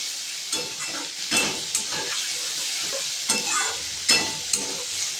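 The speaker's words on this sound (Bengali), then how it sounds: "বেশ কিছুক্ষণ সময় ধরে এটাকে ভালো করে ফ্রাই করে নেব।" Spices with salt and turmeric fry in a pan, giving a continuous close sizzle broken by several sharp scraping stirs of a spoon against the pan.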